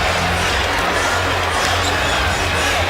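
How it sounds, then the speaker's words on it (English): Dense, roaring crowd noise fills a packed arena during a tied NBA All-Star Game between the West and East, a steady loud wall of cheering with no clear breaks. "And this crowd is now very much into it."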